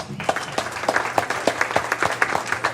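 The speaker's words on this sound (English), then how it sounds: "Can we give them a big round of applause?" Audience at a mayor's night out applauding the Keys of the City recipients, a short burst of scattered hand claps at moderate distance, fairly quiet and fading quickly.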